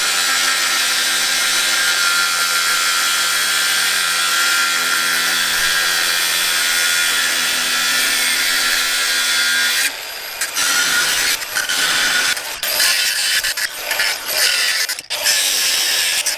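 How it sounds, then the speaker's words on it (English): An angle grinder with a cutting wheel slices through wheel studs on a Chevy Tahoe, a loud steady high-pitched shriek that runs unbroken, then breaks into uneven bursts and scraping as the cut finishes. "I found my grinder."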